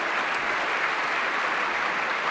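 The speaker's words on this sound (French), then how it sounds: "Voilà, alors, les applaudissements." A concert audience in a chapel at the Music Chapel Festival applauds as a violin soloist walks on, producing a dense, even roar of clapping that continues without a break.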